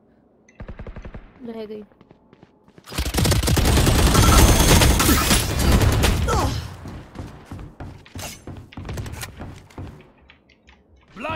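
Gunfire in Valorant arrives as a loud, dense burst lasting a few seconds after some faint clicks. Someone speaks briefly before it, and game sounds trail off afterward.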